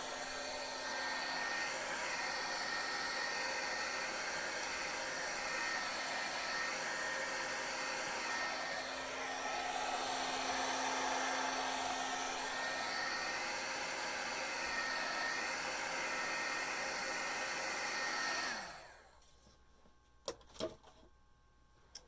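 A hair dryer blows steadily on craft paint, a loud continuous whooshing roar lasting about eighteen seconds before it clicks off, leaving near silence with a few small handling knocks.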